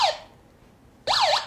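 An electronic siren on a doorway activity monitor kit with beam-in and beam-out sensors, two loud sweeping up-and-down wails with silence between, close and alone.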